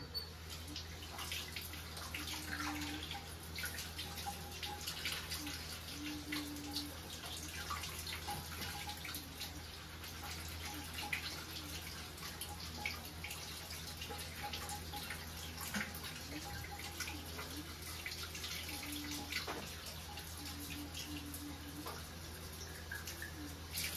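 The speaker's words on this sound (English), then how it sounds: "Just needs another little rinse." Water running and splashing as an old glass bottle dug up after more than a century is rinsed, a steady close tap flow with gurgles and drips throughout, no talking.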